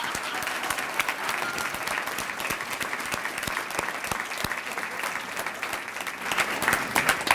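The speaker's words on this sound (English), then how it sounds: "let us give you a round of applause" Audience applause at a Teacher of the Year awards ceremony, a continuous crowd of clapping hands with sharper individual claps standing out, sustained at a moderate level throughout.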